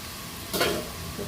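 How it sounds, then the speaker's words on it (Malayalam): Onions sautéing in a pan for a Kerala-style mutton curry, with one short stir that raises a soft sizzling scrape before the quiet frying hiss settles again. "ഉള്ളി ഇങ്ങനെ പതുക്കെ വഴണ്ട് വരുന്നുണ്ട്."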